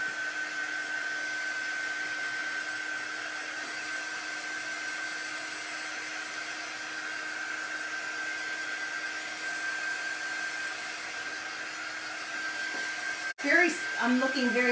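A hair dryer blows on wet paint on a craft project, a loud, steady whine that runs continuously close up and cuts off near the end with a short clatter.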